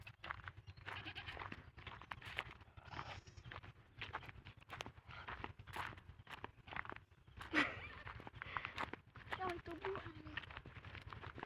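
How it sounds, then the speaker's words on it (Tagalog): A goat bleats a few times amid ongoing talk and laughter, with some shuffling footsteps nearby. "Nara da kambing."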